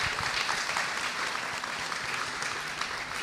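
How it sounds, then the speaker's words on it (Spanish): Sustained audience applause at a panel discussion on Juan Gabriel, dense steady clapping filling the whole stretch with no voices over it. "Bueno, un aplauso, por favor."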